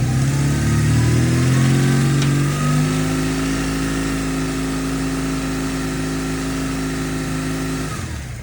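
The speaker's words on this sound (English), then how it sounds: "So the bike sounds really good now." A BMW R1100S motorcycle engine, freshly valve-adjusted with a cam chain tensioner upgrade, idles with a loud, close, even throb, rises through a short rev partway through, then settles back to a steady idle before cutting off.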